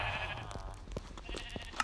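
A sheep bleats in Minecraft, a short wavering cry up close, followed by a few soft clicks and taps.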